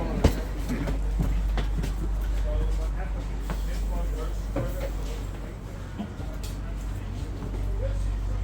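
A train rumbles at a railway station platform, with an express service mentioned. The steady, loud low drone runs throughout with scattered clanks, and people talk over it.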